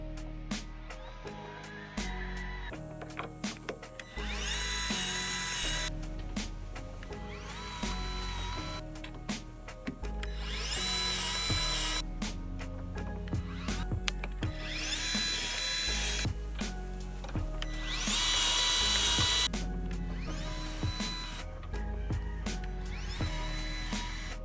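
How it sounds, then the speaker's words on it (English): A grease gun pumps grease into the pins of a Kubota SVL97-3 compact track loader, giving several loud whirring bursts separated by short pauses over a steady mechanical background. "Just plug it into the pin, pull the trigger, and you'll start seeing the old grease come out of the bearings."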